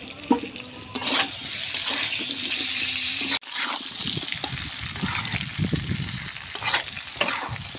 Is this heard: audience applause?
no